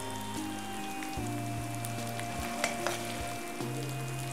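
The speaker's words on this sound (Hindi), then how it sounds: "अदरक को हल्का फ्राई कर लीजिए" Grated ginger fries in hot oil while cooking chana saag, a steady close sizzle and crackle with occasional stirring scrapes, alongside a faint background hum and no talking.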